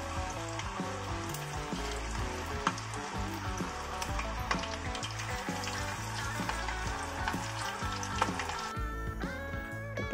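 Fish fillets frying in a pan until golden brown, a steady sizzle running for about ten seconds beneath prominent background music.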